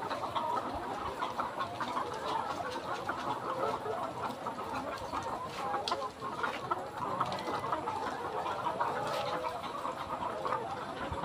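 About three thousand laying hens in a poultry shed on a riverbank farm keep up a dense, continuous chorus of overlapping clucks and cackles, close and steady throughout.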